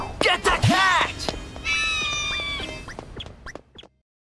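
A cartoon cat meows in a short rising-falling cry amid a busy animated scene, followed by a sustained tonal squeal and scattered clicks, all fairly loud and close, with brief voices around it.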